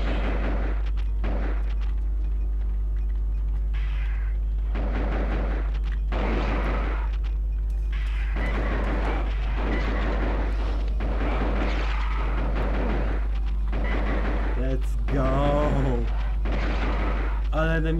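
A pump action auto shotgun fires in the Duke Nukem Time To Kill video game, a series of loud, sharp blasts spaced irregularly across the stretch over a constant low hum.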